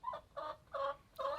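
A chicken clucks four times in a quick, evenly spaced series of short, bright calls, close and clear, with no talk.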